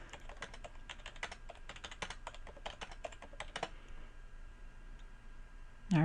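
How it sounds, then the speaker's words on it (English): Rapid clicking of keys on a TI-84 calculator keypad as numbers are entered, a close, quiet run of taps that thins out and stops near the end. "I'm just typing numbers and pressing enter"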